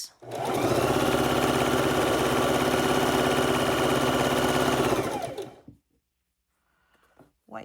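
A sewing machine runs continuously for about five seconds, stitching pieces of a log cabin quilt block, then winds down to silence, with a few soft clicks and handling sounds near the end.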